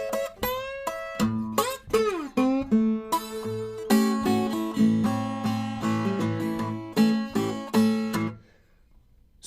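An acoustic guitar plays an alternate intro solo, with plucked notes and bent slides giving way to strummed chords that ring out and then stop abruptly.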